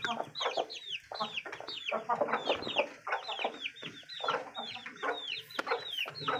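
Aseel chickens, a rooster and hens, cluck in a busy, overlapping chorus of short calls, close by and continuous, with no talking.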